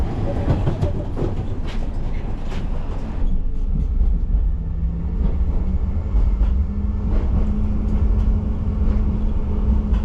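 A train rumbles steadily along the tracks in Ukraine with a low, continuous roar and occasional rattling clicks, heard from inside the carriage.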